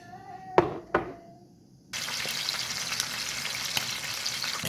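Two sharp knocks are followed by salted tamban sardines hitting hot oil, which breaks into a loud, continuous sizzle.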